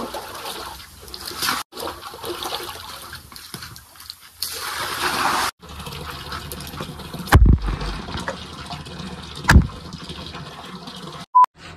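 Water poured from a bucket onto a floor for cleaning, a continuous splashing gush with uneven surges and a few sharp knocks, close and fairly loud.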